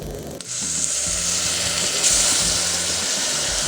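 Margarine drops into hot melted amber sugar caramel and bursts into a loud, sustained sizzling hiss that starts abruptly and keeps steady, with a faint low rumble underneath.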